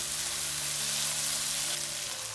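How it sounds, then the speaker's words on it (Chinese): Tomatoes, peanuts and bean sprouts with a splash of soy sauce sizzle steadily in a hot wok, a close, even hiss of stir-frying with no pauses. "再放入豆芽，少许生抽，稍微翻炒一下"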